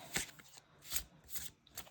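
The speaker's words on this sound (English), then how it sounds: "they are super easy to hand over hand shuffle" Matte-finish tarot cards being shuffled hand over hand, soft papery riffling bursts repeating about every three-quarters of a second, close and quiet, with no voices.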